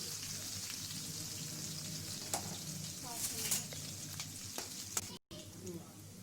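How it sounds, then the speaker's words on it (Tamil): Cumin, garlic and green chillies fry in hot oil with a soft, steady sizzle and scattered crackles, fairly quiet throughout with a few light stirring knocks. "இது கொஞ்சம் ஃப்ரை ஆகட்டும்."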